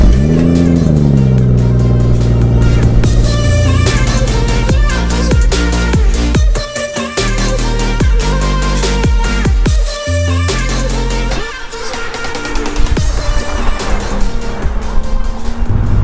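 A BMW M140i's engine revs hard while driving, loud and close, with rising and falling pitch across repeated accelerations and gear changes and no talking.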